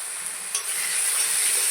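Spices, turmeric, chilli and cumin powder, being stirred into fried food in a pan for a Bengali vegetarian dish, giving a steady close sizzle with scraping strokes and a brief utensil knock partway through.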